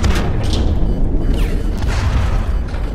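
Heavy, continuous blasting roar of a heat cannon firing in the mech shooter game Hawken, loud and sustained with a few sharper bursts riding on top, no voices.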